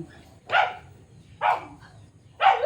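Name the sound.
dogs barking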